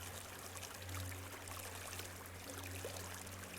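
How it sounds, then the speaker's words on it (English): River water flowing steadily beside an outdoor yoga spot amid greenery, a soft continuous wash of running water with a low constant hum underneath, no voices. "the water flowing next to me"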